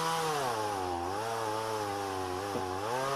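A chainsaw cuts into a chestnut tree, its engine droning loud and steady for the whole stretch, with a brief dip in pitch near the end as the chain bites into the wood.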